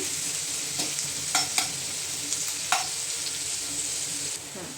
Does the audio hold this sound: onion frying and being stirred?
yes